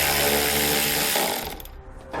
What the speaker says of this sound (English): we're going to grab a 10mm socket so we can pull it out.